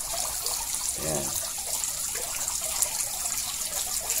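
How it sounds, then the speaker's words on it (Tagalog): Water trickling and dripping into a school fish pond, a steady soft splashing wash that runs throughout, with a brief voice near the start. "tunog ng pumapatak na tubig dito sa ating fish pond"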